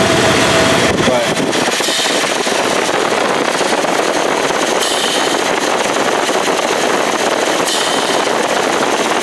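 A Dodge 318 Magnum V8 with an intake plenum leak idles steadily, a loud continuous rumble throughout, with some background noise and no clear speech.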